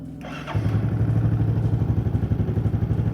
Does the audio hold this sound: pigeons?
no